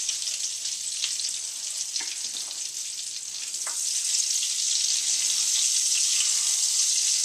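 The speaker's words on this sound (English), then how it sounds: "Watch that melt right into that bacon fat" Butter melting into hot bacon fat in a pan, a bright steady sizzle that grows a little louder toward the end, with a few faint utensil clicks, close and without talk.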